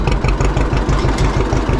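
Small engine fired by push-button start with a touch of throttle, settling into a steady, loud, pulsing idle close by with a low rhythmic throb.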